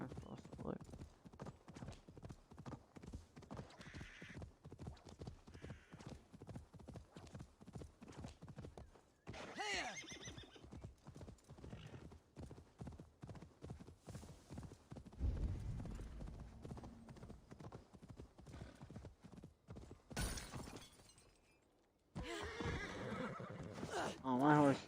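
Horse hooves clip-clop at a steady gallop with repeated neighs and whinnies from a mount in the Assassin's Creed Valhalla video game, loud and continuous, joined by a crash and a talking player.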